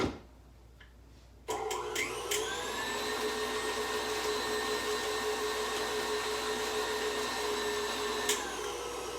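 Electric mixer whirring steadily as it stirs cream cheese for a homemade pineapple cream cheese cake, switching on after a quiet start and holding a constant motor drone to the end with no talk.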